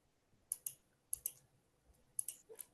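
Computer mouse clicks on a play button, falling in quick pairs of sharp, close taps separated by short pauses, with no talking.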